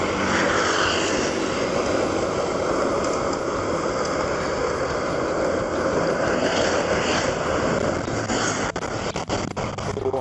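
Steady, loud wind buffeting rumbles across the microphone throughout while traveling through forest on a route between Lamongan and Mojokerto, a broad continuous roar with no voices.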